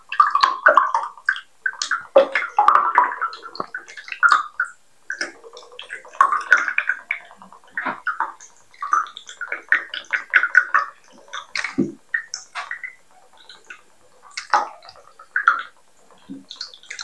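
Water splashing and gurgling into a container in uneven bursts, with pauses between pours and some trickling drips.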